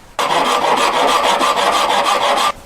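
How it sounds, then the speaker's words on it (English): A metal file rasps across the end of an earring post held for a diamond stud, one continuous, loud, close scraping stroke lasting a little over two seconds, with a faint rhythmic pulsing. "First, file the end completely flat."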